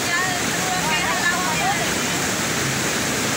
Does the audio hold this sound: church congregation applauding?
no